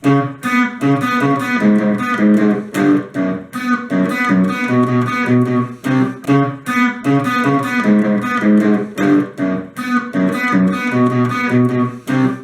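An electric guitar plays the intro riff of a song with light distortion, in loud, rhythmic chugging chords that continue without pause.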